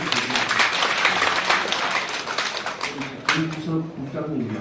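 Applause from the audience at a regional development policy forum in Daegu, clapping rising over a speaker's voice and gradually thinning as talk resumes.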